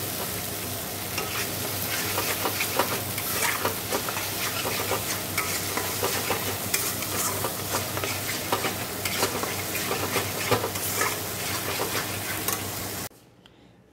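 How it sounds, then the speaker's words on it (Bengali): Food stir-fries with turmeric and sugar in a hot pan, a steady dense sizzle running throughout with scraping stirs on top. It stays loud and close, then cuts off abruptly near the end. "হলুদ দেবো, মিষ্টি দেবো। ভালো করে কষে নেবো।"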